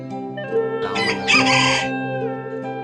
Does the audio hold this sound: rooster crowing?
yes